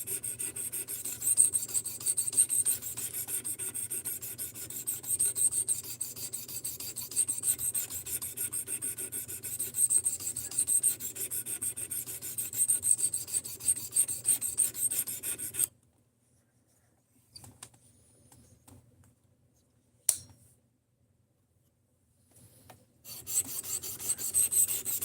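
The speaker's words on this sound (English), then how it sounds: "the best you can do for sharpening gut hooks with this thing is going to be the ceramic rod on this thing" A gut hook knife sharpened on a ceramic rod, steady rhythmic rasping strokes up close for about fifteen seconds, then near silence with a few faint scrapes before the strokes resume.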